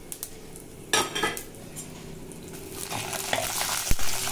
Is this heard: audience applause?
no